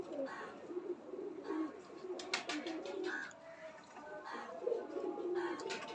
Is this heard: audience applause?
no